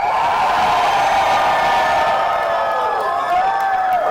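A live audience at a San Francisco show roars with sustained cheering, whoops and shouts, loud and continuous throughout, a dense wall of crowd noise filling the room.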